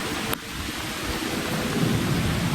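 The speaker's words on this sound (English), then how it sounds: "Who knew nighttime thunderstorms were good?" A nighttime thunderstorm in New Jersey: a sharp crack of thunder early on, then rolling rumble under steady loud rainfall, with no voices.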